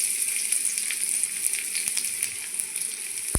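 Chopped onion frying in oil in a wok, a steady close sizzle with faint crackles running throughout, alone without talk, ending in a brief sharp knock.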